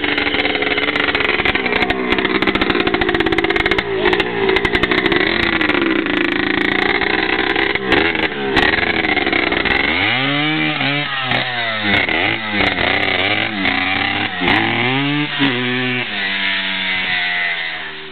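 A Yamaha DT trail motorcycle engine revs loud and close on a dirt trail, its two-stroke whine rising and falling through repeated throttle blips, with the pitch sweeping sharply up and down in the second half.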